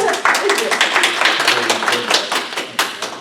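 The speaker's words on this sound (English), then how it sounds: "Oh, we didn't clap for you." A debate audience claps briefly after a speech, a dense patter of many hands close by, with voices talking over it.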